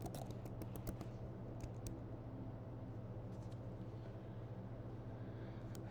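Someone types a password on a MacBook keyboard, soft rapid key clicks in a short burst at the start followed by a few scattered taps over a quiet background hum.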